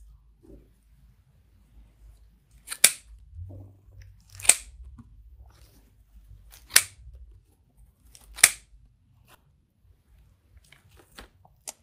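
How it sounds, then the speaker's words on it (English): Scissors snip through ribbon for a red, white and blue grapevine wreath, four crisp separate cuts spaced a couple of seconds apart, close and clear over a quiet background. "fold your ribbon in half, wire to wire, and then cut the non-wired side"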